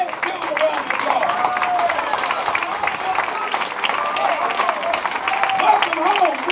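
An audience at a community gathering in Coldwater, Mississippi applauds in a steady wash of clapping, with voices talking and calling out over it the whole time.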